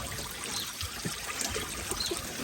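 Water trickling and bubbling in a steady wash as bubbles rise from submerged soil, with small gurgles and pops close by, no voices.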